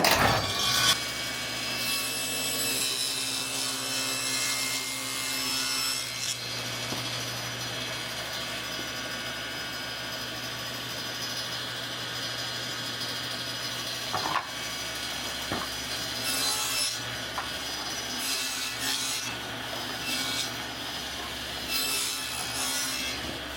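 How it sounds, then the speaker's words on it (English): Table saw cutting a dado in wood boards runs with a steady motor drone and cutting rasp, boards pushed through one after another with a few clunks and shifts between passes. "So I'm gonna set my saw here to a 1/2 inch. And then I'm gonna run all these boards through."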